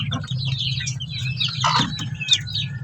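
Fifteen-day-old chicks chirp in a brooder, a scattering of high, thin peeps over a low steady hum, fairly close and with no one talking.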